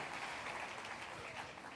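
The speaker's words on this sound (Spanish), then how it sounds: "Dale un aplauso al Rey de la Gloria." A church congregation at an international pastors' retreat service applauds in a steady, fairly quiet wash of clapping with no clear break.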